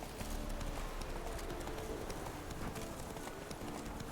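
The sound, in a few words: horse Roach galloping in The Witcher 3 video game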